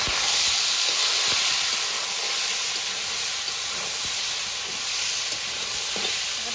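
A continuous loud sizzle fills the air, with occasional scraping clicks as sago is stirred around a hot pan.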